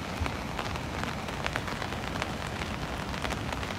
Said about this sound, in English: You can hear the rain on the umbrella